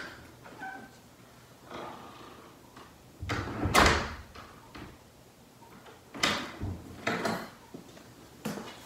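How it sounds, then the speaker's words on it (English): An indoor bathroom door being pushed shut, a short sharp thud that stands out among a few other soft household bumps and shuffles, with no talking. "I'm going to close the door."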